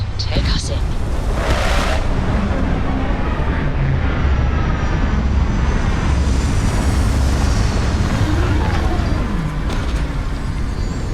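A spaceship's engines roar loud and steady while landing in the video game Starfield, a dense, continuous rumble with a rushing whoosh throughout and a brief higher swell near the start.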